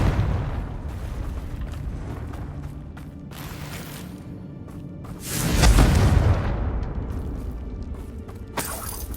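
A Confringo blast spell in Hogwarts Legacy, with rumbling game effects building to a loud, deep fiery boom midway that swells and rolls off, followed by a sharp crack at the end.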